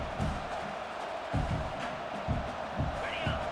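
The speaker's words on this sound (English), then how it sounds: "This crowd trying to make life miserable for this offense." Football stadium crowd at a Texas A&M game, a steady broad roar filling the background, with low thumps pulsing roughly every half second, likely drums or stomping, loud and continuous throughout.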